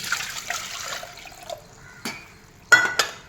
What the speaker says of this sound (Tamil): குக்கரில் தண்ணி ஊற்றிக்கிறேன்.